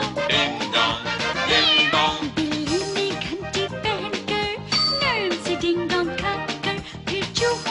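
A cartoon cat meows twice in an old Pakistani PTV commercial about mice chasing Ding Dong, the meows rising over busy, jingling music with bright chimes.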